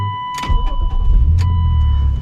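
A 1999 BMW M Coupe with a manual clutch sounds a steady electronic warning chime, then its engine catches and settles into a loud, close, low idle rumble.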